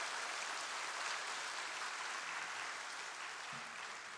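A church congregation applauds steadily for a few seconds, a dense, even patter of many hands heard at moderate distance without any talk.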